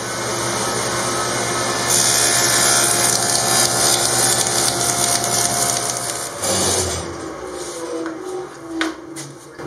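A power saw runs steadily while cutting a dado into wood for an RV upper cabinet, a loud continuous whine with grinding texture for about six seconds, then it spins down and fades into quieter handling noises.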